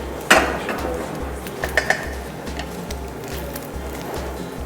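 Plates and cutlery clink while a dish of Ali Nazik is plated in a kitchen, with a sharp clatter early on and a few lighter ringing taps over a low rhythmic background hum.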